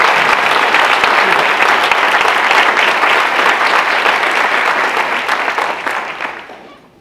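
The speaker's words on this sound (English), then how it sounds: "So would the audience please join me in applauding these outstanding champions" At a university's state-of-the-university address, a large audience applauds steadily and loudly, a thick wash of clapping that holds for several seconds before fading out at the end.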